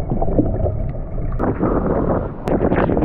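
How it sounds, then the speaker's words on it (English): Hurricane-force wind in Bermuda buffets a small boat tied up on the water, a loud, roaring rush of gusts blasting the microphone without pause for a few seconds. "There's too much wind."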